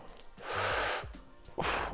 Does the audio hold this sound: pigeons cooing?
no